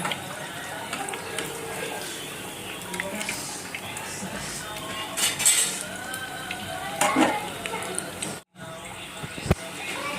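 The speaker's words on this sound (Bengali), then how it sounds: "পেঁয়াজগুলো ভাজা হলেই হয়ে যাবে" Onions fry in a pan in a home kitchen while food is cooked for a fasting day, giving a steady close sizzle with occasional stirring scrapes and utensil clinks. Voices talk over it now and then.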